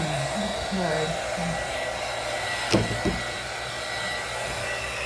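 A hair dryer blows steadily across a soft pastel drawing, a constant close whooshing hum throughout with a brief sharper bump near the middle.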